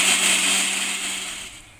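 A kitchen mixer grinder whirs loudly as it grinds chicken masala, a steady high-pitched motor whine with a strong hum that gradually fades over under two seconds, with no voices.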